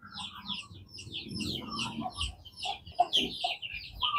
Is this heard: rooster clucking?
yes